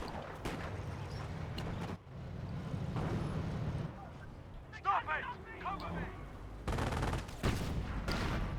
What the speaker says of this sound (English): Got artillery coming in, which has forced all these Panzer elite guys to retreat.